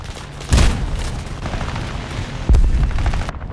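A bomb dropped from a Me-410 A-1 aircraft in the War Thunder flight game goes off as a heavy boom, followed by a second loud blast about two seconds later over steady engine drone.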